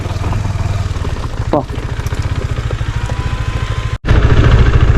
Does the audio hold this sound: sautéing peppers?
no